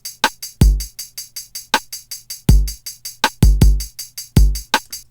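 Programmed drum loop with steady ticking hi-hats over punchy kicks and snares in a repeating pattern, loud, close and dry, with no voices.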